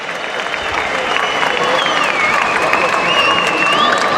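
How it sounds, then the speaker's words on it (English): A judo world championship crowd claps and cheers steadily in a large arena, a dense continuous wash of applause with shouts and whistles mixed in, staying loud throughout. "Well, the crowd already warming up here"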